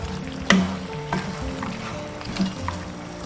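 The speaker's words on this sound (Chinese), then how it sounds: "下入猪筋" Pork tendons drop into a hot pot of oil with a sudden sharp sizzle, then settle into a steady crackling fry, close and moderately loud with no talking.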